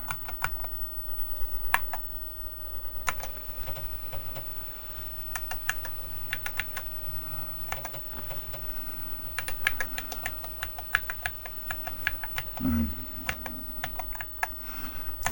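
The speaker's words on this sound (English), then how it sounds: "You just press every key on the keyboard." Keys on a Tandy Model 4P computer keyboard are pressed one after another during a diagnostic test, a long run of close, crisp clicks in an irregular rhythm with no talking.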